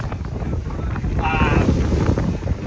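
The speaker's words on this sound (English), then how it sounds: "right now it's about 18 knots of wind" Wind rushing over a sailboat making about 6 knots in roughly 18 knots of breeze on open sea, a steady loud buffeting roar against the microphone with water wash beneath.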